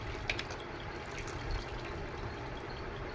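Food being rinsed in a bowl of water, a continuous close slosh and trickle of water with small splashy bursts.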